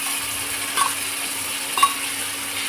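Ridge gourd frying in a pan with cumin paste and chili paste, a steady soft sizzle throughout with two brief stirring scrapes, close and moderately quiet, no talking.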